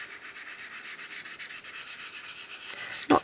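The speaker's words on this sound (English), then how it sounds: "you can use the stainless steel soap or your roller just to smooth over" Polymer clay being smoothed over with a roller, giving a steady soft rubbing, rasping sound that runs evenly throughout, ending in one brief sharper knock, with no voices.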